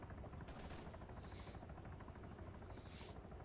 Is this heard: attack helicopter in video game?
yes